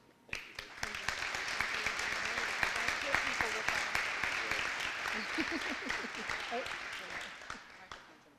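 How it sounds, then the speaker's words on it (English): A banquet audience at a chamber of commerce annual meeting applauds steadily for several seconds, dense clapping rising quickly and holding, with some voices mixed in before it tapers off. "let's give Lou a wonderful round of applause"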